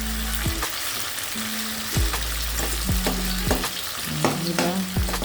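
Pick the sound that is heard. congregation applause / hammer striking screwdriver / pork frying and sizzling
pork frying and sizzling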